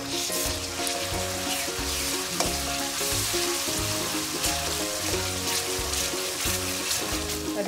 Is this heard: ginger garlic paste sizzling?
yes